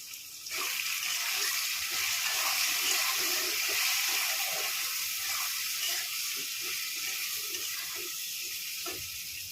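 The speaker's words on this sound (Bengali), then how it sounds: "একটু জল দিয়ে দিলাম" Water poured into a hot pan of frying ground spices (salt, turmeric, chili powder and cumin) while cooking muri ghonto, giving a steady, close hiss and sizzle that runs almost continuously with no talking.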